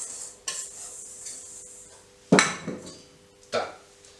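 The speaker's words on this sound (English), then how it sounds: "take a whisk, just whisk that together." Dry squash pudding bar ingredients are whisked in a bowl: a few sharp metal-on-bowl clinks and scraping strokes, loudest in two bursts, with quiet gaps between.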